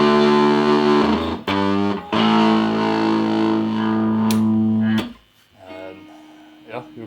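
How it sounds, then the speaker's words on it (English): Electric guitar chords ring through a Fender 300 PS amplifier with its distortion switch engaged, giving a buzzy, saturated tone. Several sustained chords change abruptly, then cut off, followed by quieter, cleaner notes. "there's this distortion switch, which gives you like the same effect like you're using a distortion pedal with diodes."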